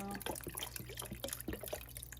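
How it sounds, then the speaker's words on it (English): Broth pours from a carton into a soup pot, splashing in a run of close, irregular drips and spatters. "it's splashing a lot"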